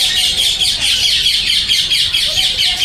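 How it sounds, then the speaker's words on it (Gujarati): Parrots at Kankaria zoo in Ahmedabad keep up a loud, continuous chatter of shrill chirps and squawks close by, with no clear speech. "ફરી આ જઈ રહ્યા છો સુરપાણનો પોપટ,"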